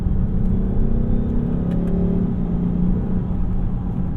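A 2015 Lexus GS350 F Sport accelerates from inside the cabin, its engine a loud, steady low rumble with a rising drone that briefly dips and resumes as the transmission snaps through quick gear shifts.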